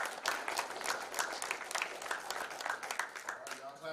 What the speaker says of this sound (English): Y'all clap it up for the Rampage guys.